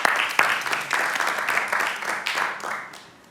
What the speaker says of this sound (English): Can we please have a round of applause while Uncle Vic can still hear us?